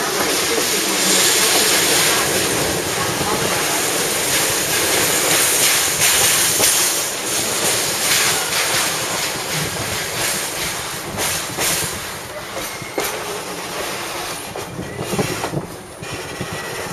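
The Kuranda Scenic Railway train runs on its tracks, heard as a steady, loud rumble with rhythmic clickety-clack of the wheels and wind noise, continuous throughout without voices.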